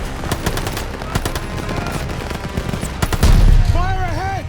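Battle gunfire in the World War II shooter Call of Duty Vanguard, loud rapid bursts of rifle and machine-gun shots crackling continuously, with a heavy boom near three seconds and shouted voices over the din.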